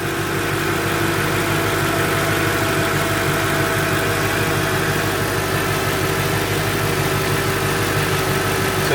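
Car engine idling steadily while the air-conditioning compressor is running during an AC recharge, a continuous mid and low rumble with a constant hum and no talking.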